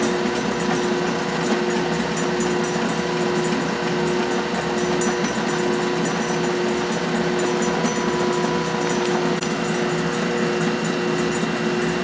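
A lathe takes a light pass across a rough lead flywheel casting spinning on a mandrel, giving a steady, continuous machine hum with a constant tonal whine and no pauses or talk.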